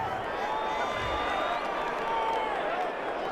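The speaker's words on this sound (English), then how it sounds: "this crowd does not like that call" A football stadium crowd reacts to a penalty call with a sustained broad roar of booing and murmuring, loud and continuous, while whistle-like tones drift over it.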